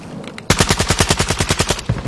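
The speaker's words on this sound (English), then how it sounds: "Oh, I'm shooting at nothing." Rapid automatic gunfire in an online shooter game, a loud close burst of about a dozen evenly spaced shots rattling off in quick succession after a quieter opening moment.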